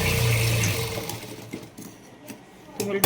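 Sewing machine stitching tucks on a princess blouse, a short loud mechanical whirr at the start that stops after a second, followed by a few faint clicks and handling sounds.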